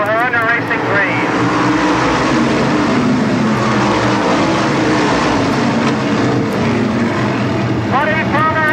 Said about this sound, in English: Down the back straightaway, Parker up to third, Tremont fourth